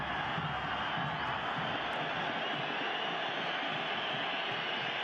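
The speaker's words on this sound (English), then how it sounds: "You can hear the jeers and the whistles from the crowd." A large stadium crowd at the 2022 Concacaf Champions League final between Pumas and Seattle Sounders jeers and whistles, a dense, steady roar that fills the whole stretch with no break.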